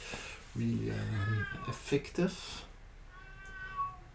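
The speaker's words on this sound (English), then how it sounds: "Yes, that's my cat." A pet cat meows several times during a home yoga breathing session, the calls close and fairly loud, mixed with a person speaking briefly.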